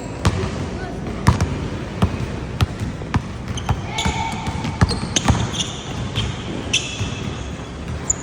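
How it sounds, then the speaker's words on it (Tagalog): A child dribbles a basketball hard during a practice drill, giving a steady run of sharp, loud, evenly spaced bounces on a hard court, with a coach's voice speaking between them. "Lakas naman yung dribble, Santi."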